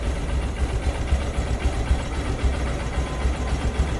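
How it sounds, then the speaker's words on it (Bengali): A 2021 Honda Shine SP 125 motorcycle engine runs steadily at idle, a close, continuous low rumble with a faint regular pulse and no one speaking. "রানিং অবস্থায় সাউন্ডটি শুনুন আপনারা"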